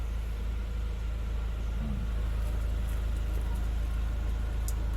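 A Kia All New Carnival engine idles steadily after starting, a constant low rumble with a faint hum, close and unchanging for the whole stretch, with no talking.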